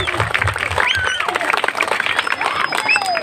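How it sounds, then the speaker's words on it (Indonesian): Audience clapping at a Balinese temple performance at Pura Dalem Kangin Nyalian, Klungkung: dense, continuous crowd applause mixed with voices and a few whistles across the whole stretch. "tepuk tangan hebat banget"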